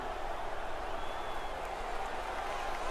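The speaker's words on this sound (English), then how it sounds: "The crowd is all over them right now." Simulated hockey arena crowd in the video game NHL 19, a steady, dense roar of cheering fans that holds at an even level throughout, with no clear break or single standout voice.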